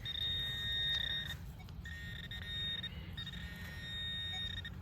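A metal detector sweeping over a buried target during digging gives three sustained electronic beeps, each a steady tone with short gaps between, loud and close over low background rumble.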